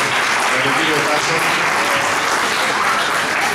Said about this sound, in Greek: Θα ήθελα ένα χειροκρότημα παρακαλώ για τον κύριο Τάσο.